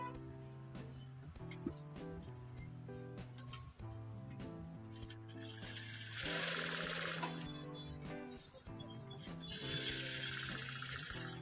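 An electric sewing machine stitching blouse pieces together, running in steady rapid bursts of needle chatter with brief pauses, loud and close, with no talking.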